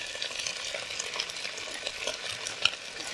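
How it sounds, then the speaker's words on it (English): Lentils frying in oil in a pot, a close, steady sizzle with bright crackling and occasional sharper pops, stirred as it cooks, with no talking. "we're actually going to fry the lentils"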